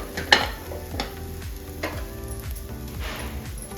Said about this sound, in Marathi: मी याला पण असंच आता भाजून घेऊ तेल टाकून